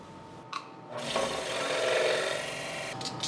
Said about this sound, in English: Then I also sand the fuzzies off of the piece I've just cut out